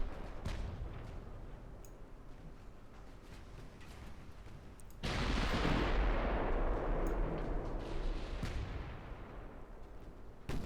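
Battleship broadside gunfire in the naval game Ultimate Admiral: Dreadnoughts, aboard the Fuso: a rumbling battle bed breaks into a loud, sustained broadside roar about halfway through, slowly fading with further thuds.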